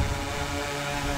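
A hovering DJI Inspire 2 drone at a beach drones steadily with loud, close rotor whine and tonal propeller harmonics as it lowers its landing gear, with no voices.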